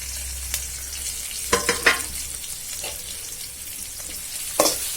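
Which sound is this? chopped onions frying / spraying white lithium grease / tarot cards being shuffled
chopped onions frying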